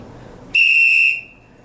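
A single loud, clear whistle blast lasting about half a second, sharp and near, after a quiet moment, then fading into silence.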